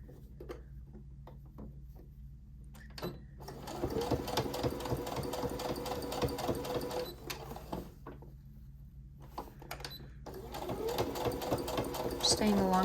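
A domestic sewing machine back stitching along the edge of fabric for breezy shorts, running in bursts with pauses between, its steady whirring rattle close and clear while a person talks over it.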